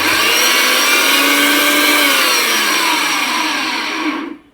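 A 1500-watt electric blender whirs loudly and steadily, blending ingredients for shrimp cakes, its motor pitch drifting slightly before it cuts off abruptly near the end.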